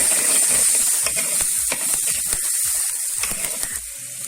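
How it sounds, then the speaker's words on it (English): Masala with turmeric powder sautés in a mud pot for prawn curry, giving a steady close hiss and sizzle with faint stirring scrapes throughout, and no voices. "After 1 minute, add little turmeric powder and saute for a while."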